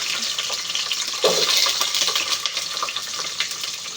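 Biryani spices frying in oil in a pot on a stove over low heat, with onions to follow. A steady close sizzle with crackling that swells louder around the middle and stays busy to the end, with no voices.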